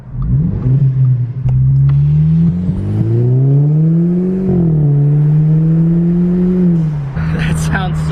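A loud turbocharged Audi A4 engine with a cold air intake revs up and holds against the rev limiter, droning with a wavering pitch that rises and falls before a sputtering crackle at the end.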